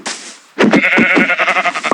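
Sheep bleating in a Minecraft-style video game, one short soft call followed by a loud, wavering, close bleat.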